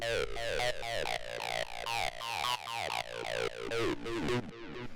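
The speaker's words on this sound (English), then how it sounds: "the first sound that we have here is a 303, which sounds like this." Squelchy 303 acid synth bassline for acid techno with rapid, resonant filter sweeps on each note, repeating in a fast, driving pattern with no voices.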